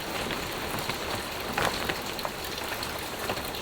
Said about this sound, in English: It has been raining rather hard.